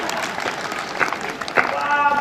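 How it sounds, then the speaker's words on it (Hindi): Audience applause at a Hindi kavi sammelan poetry gathering in Amethi, brief and moderately loud scattered clapping with a few louder bursts, mixed with crowd voices. "ताली बजाइए।"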